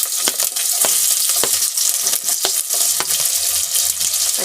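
Sliced onions and green chillies frying in hot oil with whole garam masala, a loud close sizzle with repeated scraping stirs from a spoon in the pan, no voices.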